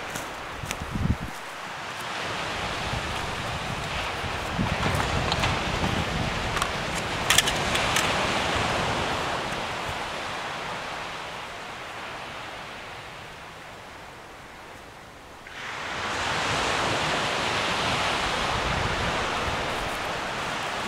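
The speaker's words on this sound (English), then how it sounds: "The wind is sort of swirling around here at the minute." Wind gusts and swirls around an overnight wild camp in January, a steady broadband rush that eases for a few seconds before surging back up loudly, with occasional close rustles and buffets.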